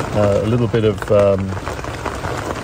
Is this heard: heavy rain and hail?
yes